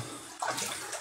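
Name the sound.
water running while rinsing hands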